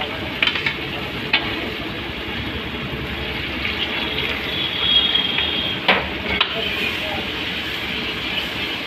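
Finely chopped onion sizzles in hot oil with whole garam masala and cumin in a pan for masala pulao, a steady frying hiss with stirring clatter.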